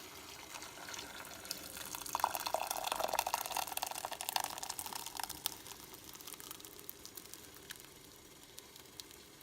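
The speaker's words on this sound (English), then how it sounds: "Just wait for it all to drip in." Boiled clear tapioca pearls drain through a strainer, giving a faint, steady trickle and patter of dripping water that builds in the first few seconds and then thins out, with no one speaking.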